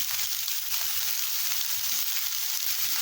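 Four cut onions and broken green chillies fry in hot oil in a pan for an onion chutney, giving a steady, close, loud crackling sizzle that runs unbroken with no talk.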